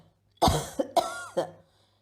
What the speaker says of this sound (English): Coughing since yesterday.